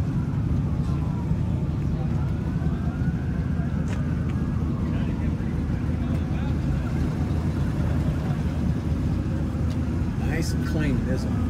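A 1964 Ford Galaxie 500 with a 408 V8 idles close by at a street rod show, giving a steady, deep, continuous rumble with faint outdoor background sounds over it.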